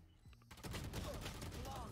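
Vandal rifle gunfire in the video game Valorant, a dense burst of rapid shots starting about halfway through and running loud to the end, with a quieter game sound before it.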